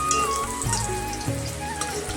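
Pointed gourd (potol) frying in a pan, a continuous close sizzle with light crackling under tonal background sounds, and no one speaking.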